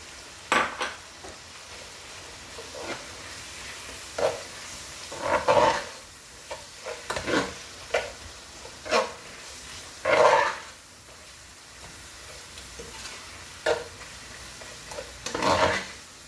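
Tomatoes and hot pepper frying in a pan of Turkish bean dish, with a soft background sizzle broken by repeated bursts of stirring and scraping, several clearly louder scrapes near the end.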